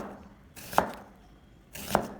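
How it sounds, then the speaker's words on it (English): A knife slices thinly across the grain of a halved onion, two crisp separate cuts against a board, close and clear with quiet pauses between. "Then, slice it thinly across the grain."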